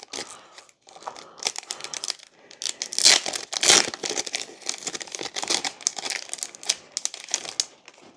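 Plastic wrapping of a Korean Pokemon booster pack crinkles and crackles while scissors cut through it, a close, busy rustling with a few louder snips, no talking.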